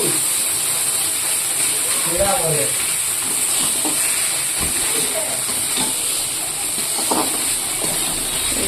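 Water poured into a hot pan of spices, a steady loud hiss of sizzling steam that holds throughout, with faint clinks and a few brief bits of voice close by.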